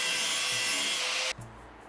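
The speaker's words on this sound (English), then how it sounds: "I'm going to have to use this power tool to remove them quickly." A power tool whirs loudly and steadily as it backs out screws from a school bus floor, then cuts off abruptly, leaving only a faint low hum.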